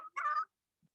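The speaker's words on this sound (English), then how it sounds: "Do you guys hear my chickens?" A single short squawking cackle from a ranch chicken sounds nearby in near silence, followed by a faint soft cluck.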